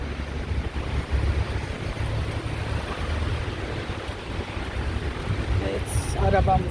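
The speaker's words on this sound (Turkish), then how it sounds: "Hava çok soğuk arkadaşlar. Çok esiyor." Strong, cold wind blows outdoors, roaring and buffeting against the microphone in uneven gusts. A brief voice is heard near the end.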